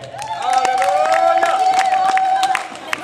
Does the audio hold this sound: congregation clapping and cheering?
yes